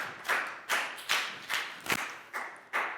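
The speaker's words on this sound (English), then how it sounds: "High five and a big round of applause for Pak Bung." A Year 4 science class claps for a student, with about seven distinct loud, evenly spaced group claps in a slow rhythmic beat, close and crisp with no talk.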